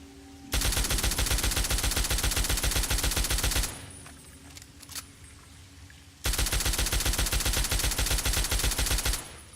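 Sustained rapid automatic gunfire aimed at an underwater enemy in Fallout 3, loud and close: one long burst of about three seconds, a pause with quiet clicks, then a second burst of similar length.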